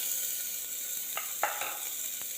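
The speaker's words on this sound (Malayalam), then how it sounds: "ഇനി അതിലേക്ക് നമുക്ക് ചെറുതാക്കി അരിഞ്ഞ് വെച്ച സവാള ചേർത്ത് കൊടുക്കാം" Chopped onion hisses steadily in hot oil in a pan while mushroom soup is being made, with a few soft stirring clicks breaking through the even sizzle.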